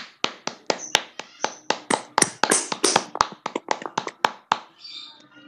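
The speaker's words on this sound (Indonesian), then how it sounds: "Kita berikan tepuk tangan terlebih dahulu untuk penyampaian dari kelompok" Students in a classroom clap for group 1's presentation, a sparse run of separate, sharp handclaps from a few people in an uneven rhythm, close by and fading out near the end.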